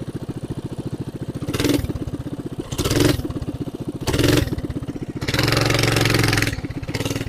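A Coleman BT200X mini bike engine idles with a steady low putter, then its throttle is blipped four times, each rev rising loud and close before dropping back to idle.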